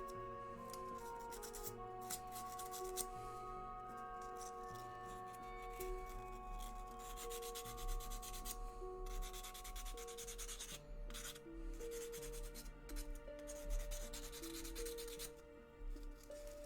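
Hand sanding with 800-grit sandpaper on a small plastic Nerf part, a quiet, steady rubbing scrape that repeats in even strokes.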